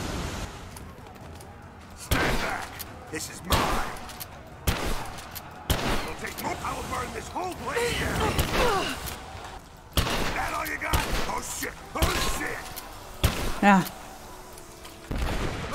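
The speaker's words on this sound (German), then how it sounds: "Aber wie viel Schüsse das die Gasflasche gebraucht hat" Gunfire in the video game Rise of the Tomb Raider, aimed at a gas canister: sharp, repeated shots burst through the game's background noise while someone talks over it.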